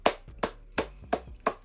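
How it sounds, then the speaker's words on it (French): A few hand claps, five sharp separate strikes at a slow, even pace, close and fairly quiet, like one or two people clapping for a football performance. "On applaudit, hein?"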